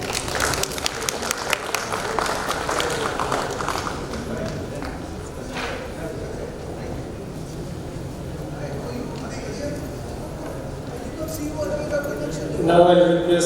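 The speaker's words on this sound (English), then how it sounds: "Let us clap for the occasion." Audience applause at a platinum jubilee conference, a steady wash of clapping that fades somewhat, with a louder burst near the end.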